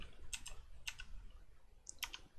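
A few quiet keystrokes clatter on a computer keyboard while Python code is typed, small clusters of clicks spaced out over a soft room hush.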